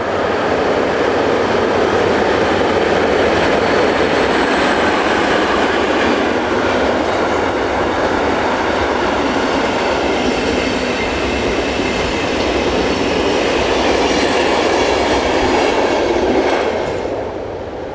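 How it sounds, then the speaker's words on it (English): A Swiss Re 6/6 electric locomotive, number 11616, hauls a passenger train toward Zurich, roaring loudly past at close range with rumbling wheels and rail clatter that fades slightly at the end. "Catching an RE66 electric on passenger trains these days is surprisingly rare."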